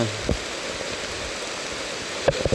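Steady, dense heavy rain hiss fills the whole stretch, loud and constant, with a couple of brief knocks near the start and end, on a mountaintop in Pursat province, Cambodia.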